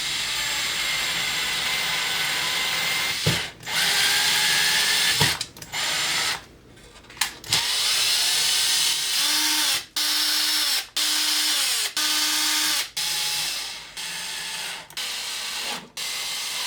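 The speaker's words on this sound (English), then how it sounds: "I had to drill new mounting holes to mount the actual amp to the shell" A drill bores new mounting holes in the shell of an Orange Crush guitar amplifier, in several loud, close bursts separated by short pauses, with a few quick on-off pulses near the end and no talking.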